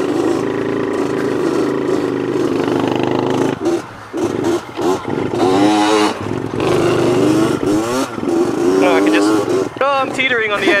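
A small motorcycle with 4-inch tires revs during a wheelie attempt, its engine droning and rising in pitch through loud, repeated throttle sweeps while people talk over it.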